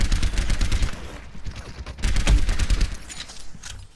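Rapid bursts of gunfire from an Overwatch match in a 1v1 tournament, dense volleys of shots crackling loudly and almost continuously, with a short lull in the middle before another heavy flurry.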